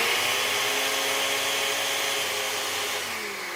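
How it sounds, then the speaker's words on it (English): Kitchen blender on its loudest setting grinding dried, crumpled sheets of homemade biodegradable glitter, giving a steady, loud motor whir that holds for a few seconds and then eases slightly, with no talking. "After a minute on the loudest blender setting, you have nice sparkly homemade biodegradable glitter."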